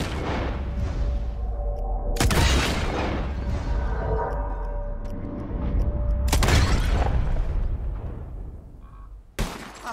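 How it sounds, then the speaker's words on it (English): Gunshots shattering bottles in the Red Dead Redemption 2 video game, with a few loud, sharp cracks spaced seconds apart over a rumbling background, each blast ringing out briefly. "Whoever shoots more of these bottles wins"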